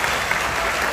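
An audience claps at a meykhana concert, a dense burst of applause from a crowd lasting the full second, loud and close.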